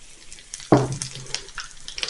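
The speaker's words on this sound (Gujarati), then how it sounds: "ઓઇલ થોડું ગરમ થાય એટલે એમાં 1 ચમચી જીરું," Cumin seeds and asafoetida hit hot oil in a pan over medium heat, a sudden sharp sizzle burst that settles into a quieter crackling fry with small pops.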